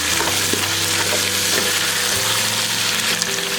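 Potatoes and carrots sautéing in a pan with ginger, garlic and curry leaves for a Sri Lankan vegetable biriyani, a steady close sizzle and crackle with occasional stirring clinks throughout.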